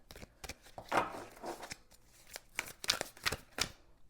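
Tarot cards are shuffled close up in quick, soft papery riffles and slaps, a series of brief rustling bursts at low volume with no speech.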